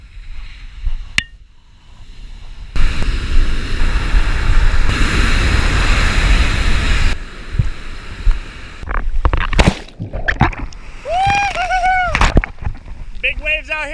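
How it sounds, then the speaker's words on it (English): Big ocean waves at Sandy Beach, Oahu, Hawaii roar as broad, loud surf noise for several seconds, followed by splashing and sharp clicks and bursts. "Big waves out here today,"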